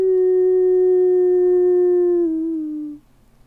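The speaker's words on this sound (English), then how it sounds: "That's a wolf." A single wolf howl, loud and sustained at a steady pitch before sliding lower and fading out near the end, alone in quiet.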